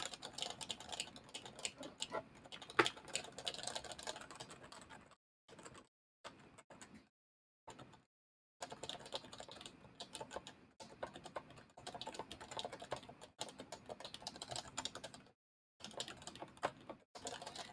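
Close, quiet typing on an HHKB keyboard: soft, rapid key presses in irregular bursts, broken by short pauses.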